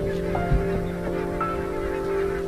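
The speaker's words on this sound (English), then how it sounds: "Every winter, barnacled geese arrive right on cue at the same Scottish river." Barnacle geese arriving at a Scottish river in winter after migrating from Svalbard, honking calls drifting over a steady droning background, a few faint cries rising briefly.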